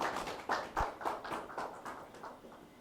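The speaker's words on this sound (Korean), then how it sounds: "큰 박수로 앞으로 모시겠습니다." Sparse applause in a lecture hall welcomes a speaker to a special lecture, a quiet run of separate claps and taps that thins out and fades over a few seconds.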